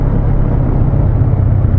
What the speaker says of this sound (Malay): Dengar bunyi motor aku macam ni.